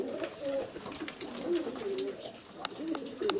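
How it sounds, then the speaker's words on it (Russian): About 40 domestic pigeons coo in low, throaty repeated calls, overlapping one another against faint background rustle and occasional clicks. "Вот они мои голуби."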